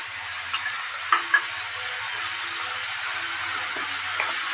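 Young jackfruit frying with a ground paste of cumin, coriander, ginger, garlic and chilli, giving a steady loud sizzle with a few soft stirring knocks.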